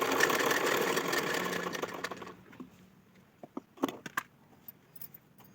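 Sewing machine stitching around the back neck of a blouse, running steadily with a close mechanical whir that fades after a couple of seconds, followed by a few scattered clicks and handling sounds.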